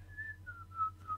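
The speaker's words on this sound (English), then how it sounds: "How do you do whistles?" A person whistles a short, soft four-note phrase, each note gliding slightly downward, close by against a low steady hum.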